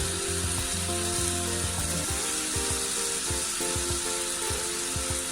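Mutton kebabs frying in a non-stick pan make a steady close sizzle, with tonal hum and scattered low knocks underneath and no voices.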